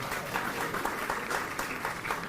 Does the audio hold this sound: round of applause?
yes